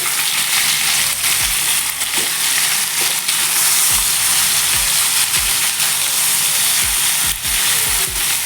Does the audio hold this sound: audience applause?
no